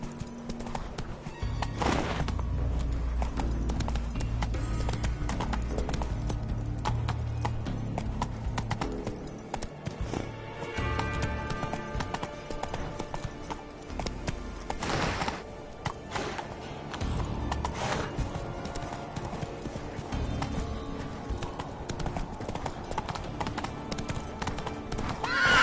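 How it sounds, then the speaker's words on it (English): Horse galloping in The Witcher 3 video game, with steady rhythmic hoofbeats clip-clopping throughout and occasional neighs and whinnies above them. "Run, Roach"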